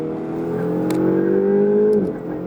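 A Ferrari sports car engine revs steadily higher for about two seconds, a loud, close harmonic whine that climbs and then drops off as the throttle eases.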